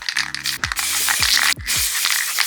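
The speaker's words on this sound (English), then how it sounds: "I'm going to use golden spray paint to paint these." Golden spray paint from an aerosol can sprayed onto paper antlers: several hissing bursts, each starting with a brief rattle of the can, close and clear with no talk.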